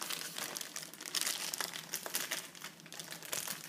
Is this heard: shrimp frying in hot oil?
no